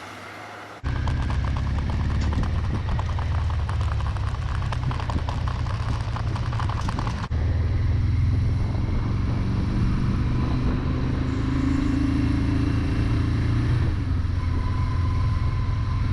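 A 1982 Suzuki GS1100G motorcycle engine with rebuilt carburetors starts up and runs steadily at idle, a constant rumbling drone throughout with a slight change in tone midway.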